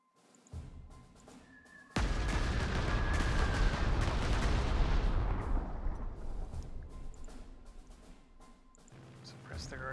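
Artillery fire in the Panzer Corps 2 strategy game bursts out as a sudden loud blast that rolls into a long, rumbling barrage before fading away, with a faint earlier shot and a brief tail sound near the end.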